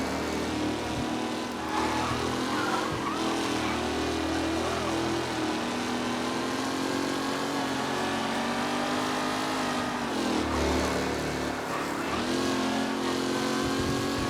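Race cars in the video game Mafia: Definitive Edition roar and rev continuously during a race, the loud engine drone rising and falling without a break.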